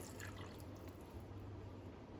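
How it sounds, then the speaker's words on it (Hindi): Water trickles into a pot while Mexican rice is cooked, a faint, steady liquid stream with a low hum underneath. "थोड़ा सा हाफ कप से थोड़ा ज़्यादा पानी हम डाल देंगे।"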